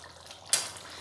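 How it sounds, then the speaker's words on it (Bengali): Duck curry simmering in a pot, a soft bubbling hiss with a single sharp clink of a spoon against the pot midway, close with no voices. "নাড়াচাড়া করে মিশিয়ে 1 মিনিট আর একটু ফুটিয়ে নেব।"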